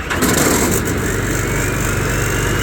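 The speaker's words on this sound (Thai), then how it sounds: "เอาเดี๋ยวลองติดเครื่องดูครับผม" The engine of a custom-built farm vehicle turns over and runs, a loud, close, rough rumble that holds steady throughout with no talk.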